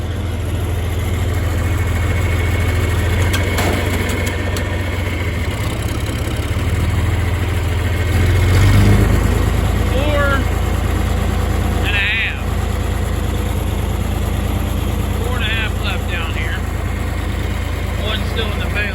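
A farm tractor engine runs steadily up close through the whole stretch, a low droning rumble with a brief surge in the middle, while people talk over it near a baler and harvester.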